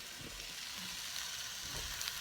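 Vegetable hash with spinach and tomatoes cooking in a pan gives a soft, steady hiss of frying, faint and continuous with slight crackles, no voice over it.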